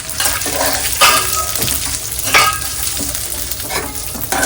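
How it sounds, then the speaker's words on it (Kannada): Seeds and dry coconut roast in ghee in a pan, sizzling steadily and close by while a spoon stirs, scraping the pan in periodic strokes. "ಈಗ ಮತ್ತೆ ಅದೇ ಬಾಣ್ಲಿಗೆ ತುಪ್ಪನ ಹಾಕೊಂಡು ನಾವೇನೇನ್ ಸೀಡ್ಸ್ ತಗೊಂಡಿದೀವಿ ಇದನ್ನೆಲ್ಲ ಹುರ್ಕೊಳ್ಳೋಣ."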